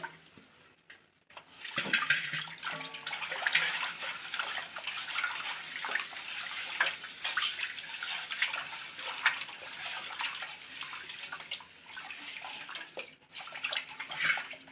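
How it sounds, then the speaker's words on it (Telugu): Water sloshes and splashes in a bowl as cut fish is rinsed by hand after salting, a continuous wet swirling with brief pauses, close and moderately quiet. "ఇప్పుడు వాటర్ వేసి కడిగేయాలి."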